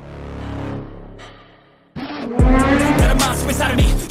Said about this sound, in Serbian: A vreme je sada da provozamo ovaj motor.